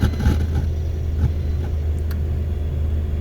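A 1987 Dodge Diplomat engine idles with a steady low rumble, close and continuous, without revving.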